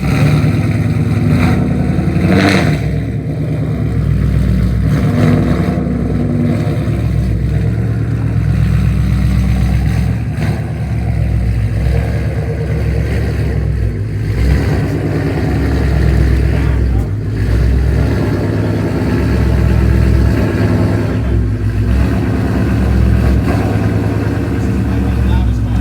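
A 2018-2020 Mustang GT fitted with a Vortech supercharger runs loud and close, its deep engine roar held high and steady with surging revs, while voices talk over it.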